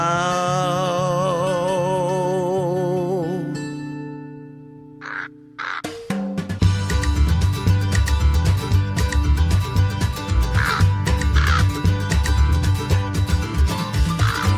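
A crow caws over the harmonic backing of a Christmas song, with a steady rhythmic instrumental passage taking over after a brief pause midway.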